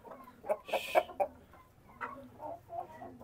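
Chickens on a farm give a series of short, close clucks in two bursts, fairly quiet, with a soft background hum.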